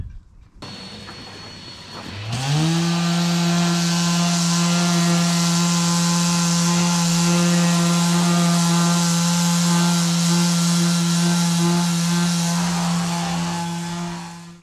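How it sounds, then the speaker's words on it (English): Power sander stripping anti-foul paint from a boat hull, a loud steady motor whine with strong tonal hum that spins up after a couple of seconds and runs continuously, close by. "remove the anti-foul first"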